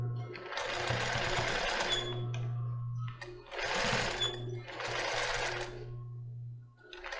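Sewing machine stitching a lace bra: steady motor whir with rapid needle clatter in three runs separated by short pauses, close and loud, no talking.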